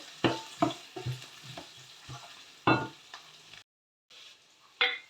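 Mustard seeds and spices frying in hot oil for lemon pickle, with a series of sharp spatula knocks and scrapes against the pan over a light crackling sizzle, briefly dropping out before one last stir.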